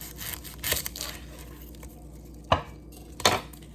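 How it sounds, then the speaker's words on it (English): A knife chops red onion on a cutting board in a few sharp, separate strikes, with quiet gaps between them, close and crisp, and nobody speaks. "I'm gonna start by cutting the red onion."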